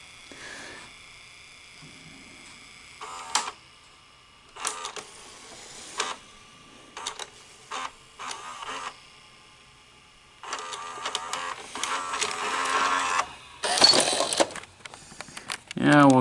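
A Sony SLV-R5UC SVHS VCR mechanism, freshly lubricated, whirs and clicks in short bursts of motor and gear noise, some longer stretches near the end, heard up close.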